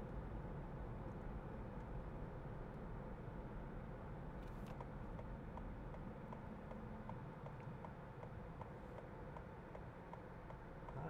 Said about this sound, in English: Traffic for a Thursday.